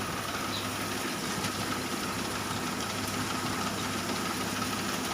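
A coriander thresher's engine runs steadily in a farm field, a continuous mid-pitched mechanical drone with a faint knocking vibration and no change in loudness throughout.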